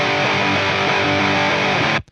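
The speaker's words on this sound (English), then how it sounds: "you have some different rhythm guitar tracks on here as well" A heavily distorted electric guitar chugs a dense rhythm part, loud and saturated, then cuts off abruptly at the end.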